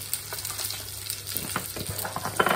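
Diced potatoes frying in a hot pan with cumin, a steady close sizzle and crackle with some stirring scrapes, no talk over it.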